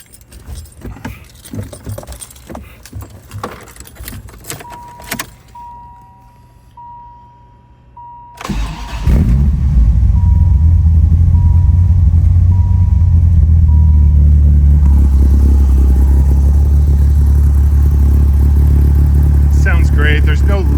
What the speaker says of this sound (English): I'm gonna do a quick cold start for you guys as well